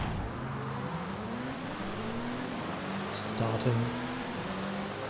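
The Ford RS200 rally car's engine runs steadily in a Forza Horizon 5 race, holding a continuous drone with shifting pitch and rising briefly near the end, while a voice talks over it.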